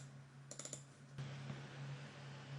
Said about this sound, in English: what you should do is to click the Enter key on the keyboard